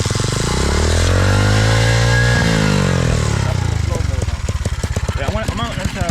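A pit bike engine just after being kick-started, revving loudly up and down close by, then dropping to a rough, pulsing idle while people talk over it.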